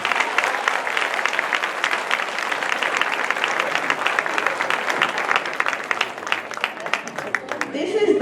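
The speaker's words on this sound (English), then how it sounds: "I think she needs a huge round of applause." An audience applauds at a Diwali community gathering, with loud, sustained clapping from a crowd running throughout and a few voices mixed in near the end.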